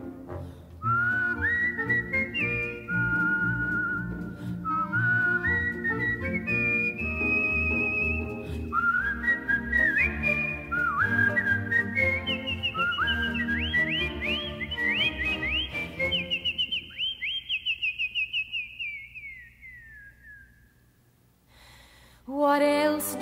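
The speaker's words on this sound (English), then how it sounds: "whistling seems to brighten up their day" People whistling a lilting tune from the musical Camelot, a continuous melodic line of rising phrases sustained for about twenty seconds, loud and clear, trailing off near the end.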